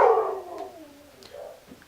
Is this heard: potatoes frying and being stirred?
no